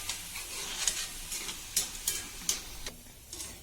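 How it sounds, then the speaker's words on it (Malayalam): Masala peanuts frying in a pan are stirred, giving a run of soft scraping and sizzling strokes with a few sharper clicks spaced across a few seconds, fairly quiet and with no talking. "പിന്നെ ഇളക്കി കൊടുത്തുകൊണ്ടിരിക്കണം"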